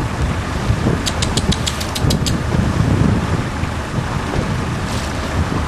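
A sailing boat motors along steadily under engine power on the Solent through gusty wind and water noise, with a brief run of sharp high clicks partway through.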